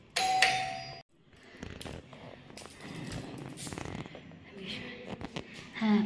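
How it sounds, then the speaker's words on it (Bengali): An electric calling bell at a home front door rings once loudly at the start with a sustained tone, then shuffling and movement noises follow while voices talk nearby. "কলিং বেলটা আগে বাজিয়ে দিই।"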